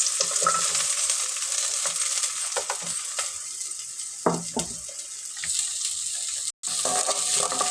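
Onion frying in two tablespoons of hot oil in a kadai, a steady close sizzle and crackle with occasional stirring scrapes and a brief dropout near the end; no one speaks.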